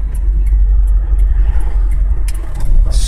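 A Fiat 2000 Spyder idles with a dry clutch throw-out bearing chirping in quick, regular repeats, close and sharp over a low engine rumble.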